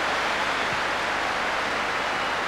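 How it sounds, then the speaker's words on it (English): Football stadium crowd at a 1996 Rangers versus Motherwell match roaring and applauding in a dense, steady wash of noise that fills the whole moment without a break. "Just listen to the applause"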